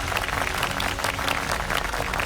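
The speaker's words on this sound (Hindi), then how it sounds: "उन सब के लिए एक बार तालियां बजाइए।" An audience at a NEET coaching event claps for their teachers. The applause is a short, steady burst of many hands, close and full throughout.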